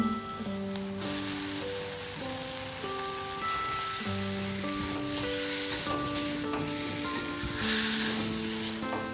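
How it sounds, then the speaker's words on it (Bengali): Fried potatoes being added to masala sizzling in oil for aloo dum, a soft steady crackle and hiss with some stirring under faint background music, without speech. "এই স্টেজে দিয়ে দিন ভেজে রাখা আলুগুলো"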